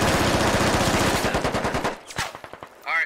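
Rapid gunfire in the military shooter game Squad, a fast loud burst of automatic shots that breaks into a few spaced single shots, close and sharp.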